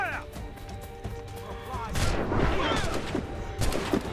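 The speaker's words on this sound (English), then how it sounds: "They're shooting back!" Cannon fire and gunfire in the video game Assassin's Creed Rogue, a rolling mix of booms, crashes and crackling shots building up midway, with a voice talking over the battle noise.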